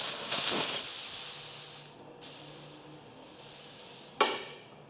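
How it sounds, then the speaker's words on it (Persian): Gas hisses out of an S.T. Dupont lighter's cylinder in a close, steady spray, broken by short pauses and sharp restarts around two and four seconds, with no talking. "یک مقداری گاز اضافه در داخل سیلندر موجود بود که بیرون زد."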